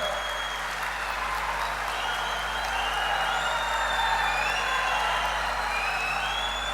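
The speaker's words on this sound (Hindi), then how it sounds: "दादा अवाड़े जी के लिए जोर से ताली बजाना जरा" Sustained applause from a large rally crowd honouring Dada Awade at a BJP event in Maharashtra, dense and steady clapping with scattered cheers throughout, no speech over it.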